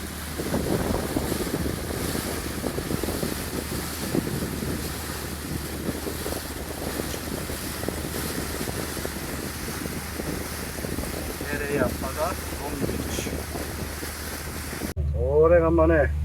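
Wind buffets the microphone on a fishing boat heading out to sea, with the wash of waves and engine rumble beneath. It continues steadily, and near the end a voice briefly speaks.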